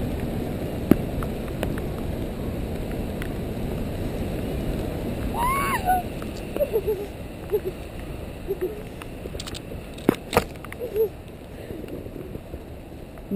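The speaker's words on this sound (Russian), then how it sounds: "Дождик бьет." Steady rain beats down in a continuous close patter outdoors at a paragliding club, with scattered louder drops and knocks and faint voices now and then.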